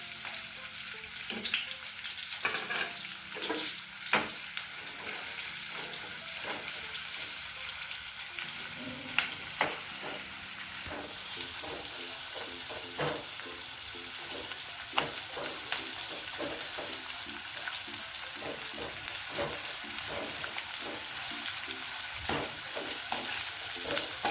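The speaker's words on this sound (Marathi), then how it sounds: "ते आपण कढईमध्ये तेल टाकलंय, त्याच्यात कांदा भाजून घ्यायचा आहे" Onions fry in oil in a kadhai for a Malvani masala fish curry, a steady sizzle with scattered crackles and occasional stirring scrapes throughout, with no voices.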